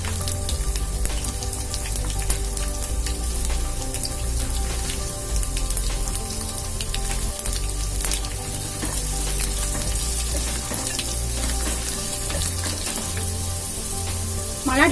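Garlic cloves, chana dal and asafoetida fry in hot oil for Iyengar-style puliyodharai, a dense, steady close sizzle with faint crackles and no voices.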